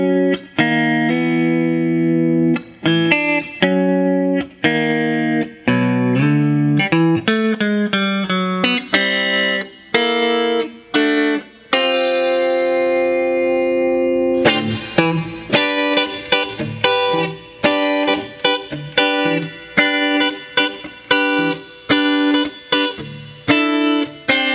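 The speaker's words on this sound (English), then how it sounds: "We go to the middle pickup here, middle position, which is going to give us a combination of both the neck and bridge pickups together." A 1966 Epiphone Riviera electric guitar on its middle pickup position plays chords and single-note runs through a clean, slightly effected tone, loud and continuous with no talking.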